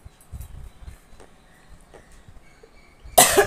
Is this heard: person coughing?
yes